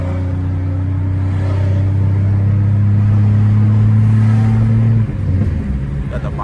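A Pontiac Grand Prix GT engine drones steadily and loudly from inside the car, a low humming tone that holds for several seconds before shifting abruptly as the car pulls away.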